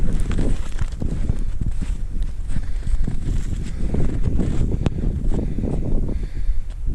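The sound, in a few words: wind blowing snow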